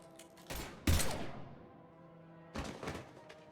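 Gunfire in Mass Effect 3 comes as three short bursts of heavy, thumping shots, the middle burst loudest, separated by brief pauses with faint tonal background.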